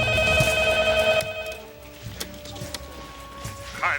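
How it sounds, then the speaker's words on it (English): A cordless phone rings in a 1993 comedy film scene, a loud electronic trill repeating in bursts over a tonal soundtrack, then a short pause before faint background sounds. "He's got, like, a cordless phone at his house, and people are, like, calling him."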